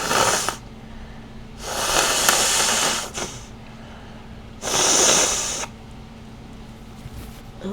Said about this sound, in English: Nose blow warning.